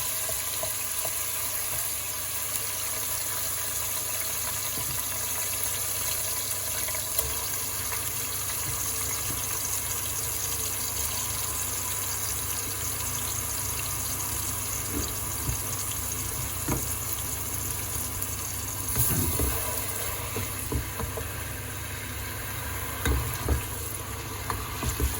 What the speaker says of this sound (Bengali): তেল গরম হয়ে গেছে, আমি এখন পেঁয়াজ আমি বেলাইলাম